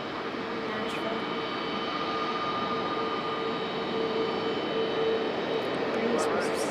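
A Southwest airliner landing at Raleigh-Durham International Airport gives a steady, broad jet roar that builds slightly over the span, with a faint whine on top and low talk now and then.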